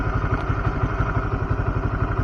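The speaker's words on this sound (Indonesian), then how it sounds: "suara mesin saat kondisi oli sudah panas" Motorcycle engine running warm on Unil Opal Racing 10W50 oil, a close, loud idle with a steady rapid thumping beat and mechanical clatter throughout.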